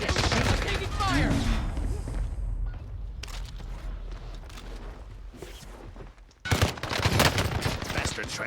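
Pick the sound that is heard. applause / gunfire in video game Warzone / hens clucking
gunfire in video game Warzone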